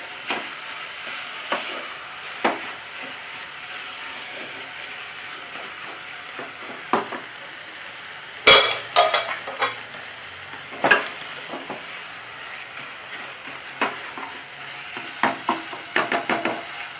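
Gajar halwa, a carrot dessert, sizzling and frying in a pan while a spoon scrapes and stirs it, with sharp clinks and scrapes scattered over a soft, steady sizzle.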